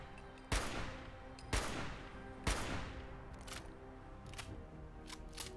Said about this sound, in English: It's just your standard hunting rifle. Just semi-auto, but same sounds as that for the 308.